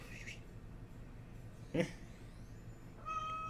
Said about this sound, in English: Kitty cat, you got the cat.